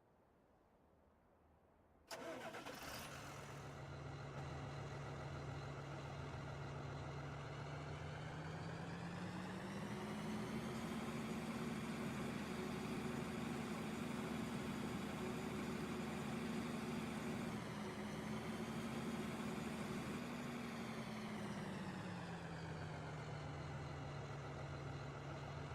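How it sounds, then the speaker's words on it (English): A tractor engine in Farming Simulator 2013 starts abruptly and settles into a steady droning hum, its pitch rising and later dropping back as revs change, running alone and evenly for about twenty seconds. "Whoops, I jumped out of the tractor while it was still moving."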